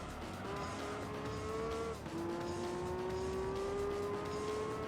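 A Pagani Zonda in the Gran Turismo 3 racing game: the engine holds a steady, loud whine, drops sharply at a gear change around two seconds, then climbs again under continuous load, with no talking.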